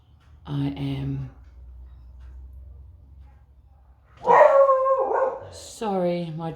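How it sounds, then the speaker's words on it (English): A dog barks at people walking past a house, a short burst of barks, then a pause, then a louder run of barks and yips close by, with a person talking briefly between them. "my dog's barking because there's people walking past my house talking"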